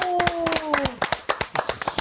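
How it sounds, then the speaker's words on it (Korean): A few people clap in an indoor setting, sharp separate claps in an uneven rhythm that grow sparser. A voice speaks briefly at the start beneath them. "박수 한번 쳐드려요."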